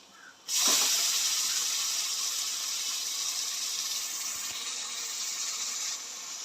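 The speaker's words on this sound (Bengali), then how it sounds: "এই দেখুন মটনে পেঁয়াজ ভাজা হচ্ছে।" Mutton frying with onion and a ground paste of tomato, cumin, garlic and ginger, a steady close sizzle that bursts in suddenly and then holds at an even level.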